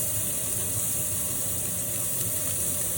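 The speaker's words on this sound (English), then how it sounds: "you can certainly use the side to sear up and get that flavor in the pan" Pork chops searing in a pan, a steady broad sizzling hiss that stays even and continuous throughout, with no talk over it.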